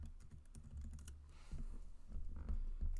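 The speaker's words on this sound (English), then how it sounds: "So let's type in action steps." Fingers tap out a short phrase on a computer keyboard, a quick close run of clicky keystrokes in a quiet room with no voices.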